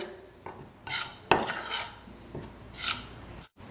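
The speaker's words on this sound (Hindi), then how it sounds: "अब हम इसको अच्छी तरह मिक्स कर लेंगे।" A spoon scrapes and clinks against a bowl while spiced potato filling with turmeric, salt, coriander leaves and oil is mixed, producing several uneven scraping strokes and one sharper clink, close and fairly quiet.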